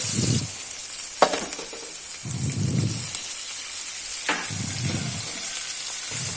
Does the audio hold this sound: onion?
yes